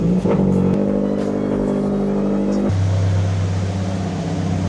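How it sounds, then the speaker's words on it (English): A car engine cranks and then idles steadily after a fresh oil change, a loud close hum that drops to a lower, even idle partway through, with no talking. "Now we're gonna crank it up, let it run for 5 minutes"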